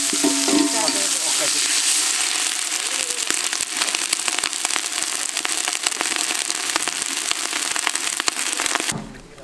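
Onion, coriander and green chillies fry in a pot over a village cooking fire, giving a loud, steady, crackling sizzle close by that cuts off abruptly at the end.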